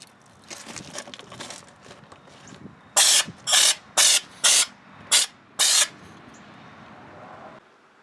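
Six short, loud bursts of an air spray gun hissing thick homemade undercoat in quick succession, each lasting about half a second, following some quieter handling noises.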